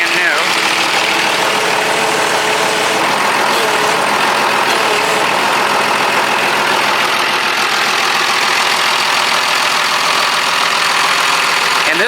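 A 1959 Farmall 460 diesel tractor runs steadily up close, its loud, rough engine chugging without pause at a constant idle-like pace.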